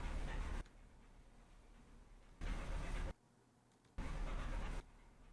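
Bursts of a loud vehicle engine drone in the World War II video game Battleground Europe switch on and off abruptly, separated by quieter rumbling stretches, with no voices.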